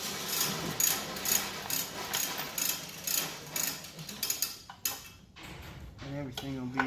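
A ratchet clicks in quick, steady bursts while a pulley is bolted onto a tensioner during a Terminator swap on a Foxbody. The clicking is close and fairly loud, with a voice speaking briefly near the end.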